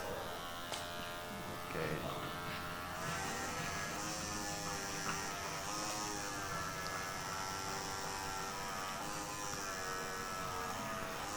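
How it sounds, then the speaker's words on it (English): Electric grooming clippers shave a dog with a steady, continuous buzzing hum that holds at an even level throughout, and a person speaks briefly once. "So I have my kids grooming clippers, which is working fine."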